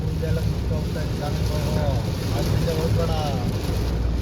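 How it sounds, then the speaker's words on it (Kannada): Heavy rain drums on a moving car, a dense, steady roar and wash over low road and engine rumble, with faint voices inside the vehicle. "ಏನು ಈ ರೇಂಜಿಗೆ ಮಳೆ ಹೊಡಿತೈತಲ್ಲ"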